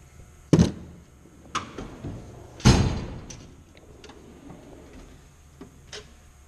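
A drawer on a tool box slides open, heard as a few sharp metallic clunks followed by a longer rolling slide, with faint rattles of tools settling afterward.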